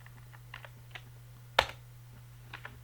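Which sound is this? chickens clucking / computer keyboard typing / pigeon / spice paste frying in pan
computer keyboard typing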